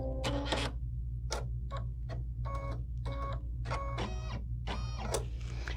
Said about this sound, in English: we're going to go ahead and stitch the placement stitch for the white background